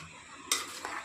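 A spoon stirs spiced Maharashtrian masala bhat rice in a pot, giving a quiet scraping swish that starts sharply partway through and continues with a second brief scrape, with no voices.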